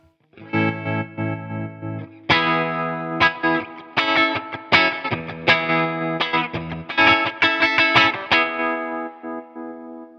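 An electric guitar plays through Walrus Audio Fundamental Series tremolo and reverb pedals, sustained chords and notes pulsing and shimmering in a steady throb, loud and alone.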